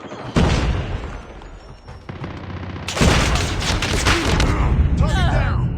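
Video game firefight with a grenade blast and rapid bursts of gunfire, loud and close, one heavy boom landing partway through amid continuous shooting, with voiced combat callouts.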